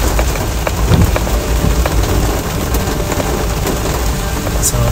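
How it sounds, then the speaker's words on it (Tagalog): Sudden heavy rain drums steadily on a car while driving, a dense, loud, continuous hiss with scattered drop impacts and a low rumble underneath, filling the whole span with no talking. "dahil yung ulan biglaan lang."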